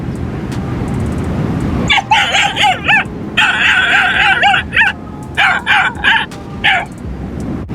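A dog barks and yips at a lion in the wild, sounding a series of sharp, repeated yelps over a low, rumbling outdoor background.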